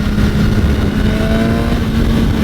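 A sport motorcycle engine at Americade 2018 revs up toward 6,500 RPM, giving a loud, steady, continuous roar with a rising tone that holds through the whole stretch.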